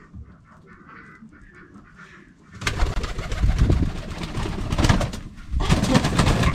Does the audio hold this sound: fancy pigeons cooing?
yes